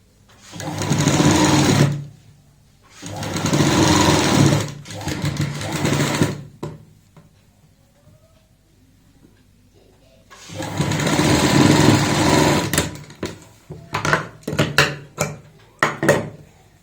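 A sewing machine stitches a baby gown with a frill, running in three close, loud bursts of steady whirring separated by pauses, followed by short clicks and taps of handling.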